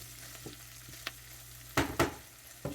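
Spoon stirring heirloom tomato soup in a pot, giving a few soft scrapes and a pair of louder sloshing strokes near the end over a low steady hum, with no voices.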